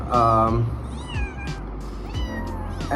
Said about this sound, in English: this troublesome duo that I got, it's an orphan kitten